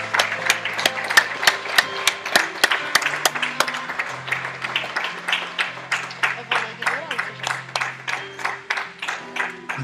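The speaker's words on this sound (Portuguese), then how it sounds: "Aplauda o Senhor Jesus." A church congregation at a Portuguese-language service claps together in a steady, even rhythm, the loud repeated claps running under a voice and sustained musical tones.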